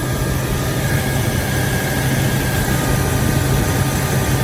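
A BMW 760Li V12 engine with heavy oil leaks runs smoothly, a loud, steady low hum with a faint high whine held evenly throughout, with no voices.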